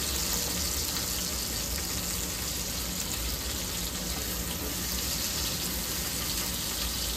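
Tomatoes added to onions in a hot pan fry with a steady, loud hiss and sizzle that runs unbroken and close throughout, with no voices.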